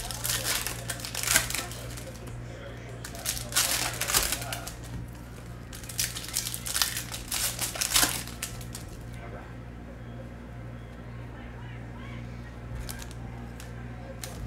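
Panini Donruss Optic football card packs are ripped open with bursts of crinkly foil tearing and rustling, then a quieter stretch of card handling, while someone talks over it.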